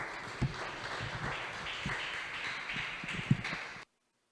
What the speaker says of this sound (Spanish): Le da un aplauso al Señor Jesús ahí donde está, hermanos